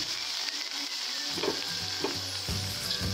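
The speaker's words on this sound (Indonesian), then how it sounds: "nah kemudian langsung aja kita masukkan sayurannya guys. Sayurannya saya pakai kol" Cabbage and other vegetables fry with ground spice paste in a pan for shirataki Aceh-style fried noodles, making a close, steady sizzle with a few soft scraping stirs.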